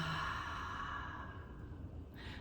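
A single slow, deep breath drawn in and let out softly, close and quiet, heard alone during a calming EFT tapping session.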